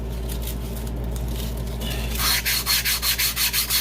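Wood is sanded by hand with sandpaper. After a quiet start, the last second and a half brings a run of even, rhythmic rubbing strokes, close and clear, with no talking.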